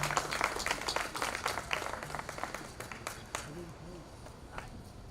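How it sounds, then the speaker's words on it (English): Applause from an audience for a mayor at a city hall event in Paterson, a dense crowd of clapping hands that holds steady and then gradually thins out as it fades. "Big round of applause to Mayor Khayrlله"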